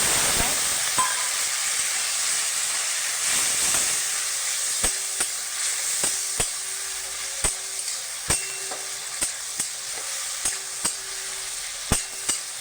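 Water poured into a pan of fried fish heads for a spicy Bengali chorchori sets off a loud bubbling sizzle and steam hiss, followed by a string of sharp utensil clicks and taps against the pan.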